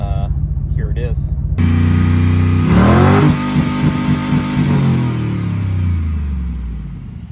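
GMC Denali truck engine revving hard and bouncing off its factory fuel-cut rev limiter, a loud, close, surging roar after a brief stretch of talk at the start.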